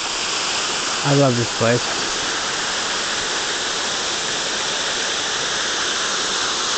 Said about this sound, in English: The falls feed the creek that I walk along most of the way here.